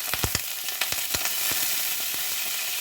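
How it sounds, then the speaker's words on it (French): Cumin seeds sizzling in hot coconut oil in a wok, a run of sharp popping crackles over a steady hiss, louder at first then settling, no talking. "je vais mettre une demi-cuillère à café de graines de cumin dans mon huile"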